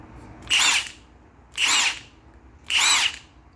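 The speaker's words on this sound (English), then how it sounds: "tool review on my Milwaukee M18 fuel impact" A 1/2-inch drive Milwaukee M18 Fuel impact wrench whirs in three short, evenly spaced bursts about a second long each. The runs are loud and close, with quiet gaps between them and no talking.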